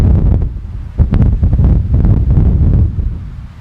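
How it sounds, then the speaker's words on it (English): Strong wind at an outdoor shooting range, loud low buffeting rumble with gusty surges against the microphone, continuous and close with no other sounds. "It's pretty windy."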